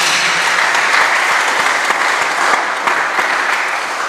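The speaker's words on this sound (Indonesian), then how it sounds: "Tepuk tangan dulu untuk dirimu." A church congregation claps during a sermon, producing a continuous, even wash of hand clapping that stays loud and steady throughout with no talking over it.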